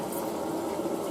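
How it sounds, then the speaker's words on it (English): Water rushes steadily into a container outdoors during a blizzard, a continuous close hiss and gurgle with no breaks or voices. "I'm out here filling water."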